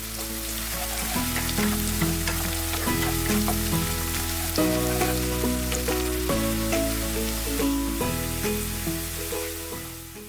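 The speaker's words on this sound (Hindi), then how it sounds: "ऑनियन थोड़ा सा फ्राई होने के बाद इसमें गार्लिक ऐड कर देंगे।" Chopped onion and garlic frying in oil give a steady crackling sizzle, heard beneath prominent background music with sustained tones and changing chords.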